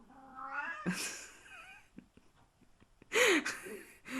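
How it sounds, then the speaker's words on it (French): A cat meows several times nearby, with drawn-out wavering cries and a louder yowl near the end, with no talking. "Je suis désolée pour le chat, il s'exprime."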